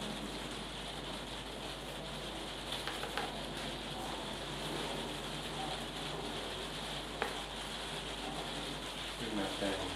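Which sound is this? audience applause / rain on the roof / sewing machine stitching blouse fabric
rain on the roof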